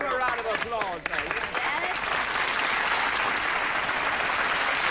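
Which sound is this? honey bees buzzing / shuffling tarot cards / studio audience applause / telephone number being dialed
studio audience applause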